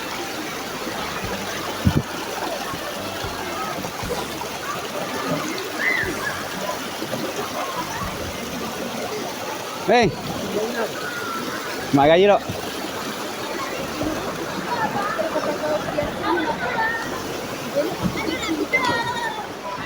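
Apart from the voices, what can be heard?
waterfall at Desa Ulu Maras with visitors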